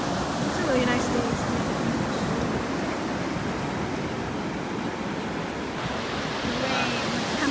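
Ocean surf rolls onto a beach on a sunny day, a steady broadband wash of breaking waves with some wind rumble on the microphone, continuous and moderately close.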